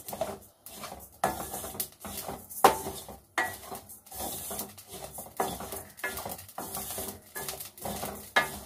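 Coriander, cumin and fenugreek seeds roasting in a pan, heard as repeated scraping stirs and metallic clinks of a utensil against the pan with a light sizzle, in uneven bursts close by.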